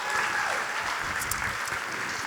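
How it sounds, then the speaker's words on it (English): An audience at a charity ball breaks into warm applause, a steady wash of many hands clapping at close range with no talking over it. "Can you please give them a great big round of applause?"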